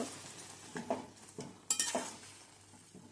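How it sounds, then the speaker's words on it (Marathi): Jaggery syrup with wheat cooking in a pan over a full gas flame, giving a soft continuous sizzle with a few stirring scrapes and clinks, close but quiet. "गुडाचा पाक होता आहे मस्त"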